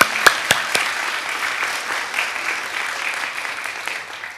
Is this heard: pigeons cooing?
no